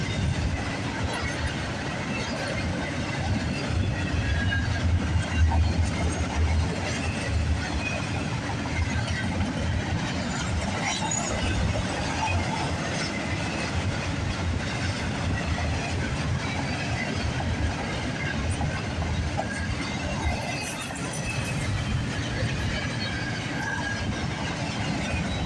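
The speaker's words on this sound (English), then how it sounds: "2507 inspection boxcar. Wow, an inspection boxcar." A freight train rolls steadily past at close range on the Oakville Subdivision in Burlington, with a continuous broadband rumble of wheels and railcars over the full stretch, including an inspection boxcar, and no talk over it.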